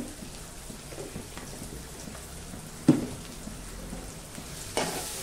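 Onions sautéed with salt in a pan for dal tadka, a steady sizzle with two sharp scraping stirs of a spatula, close and without talking.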